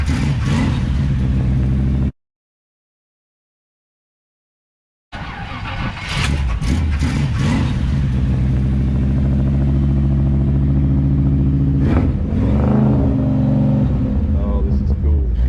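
A 1957 car engine turns over and runs, pushed into rough, throaty revs close by after a brief silent gap, with some talk mixed in.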